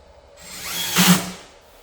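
A power drill drives a screw into a sliding glass enclosure during assembly, one short whirring burst that rises, peaks and winds down in under two seconds, close and clear.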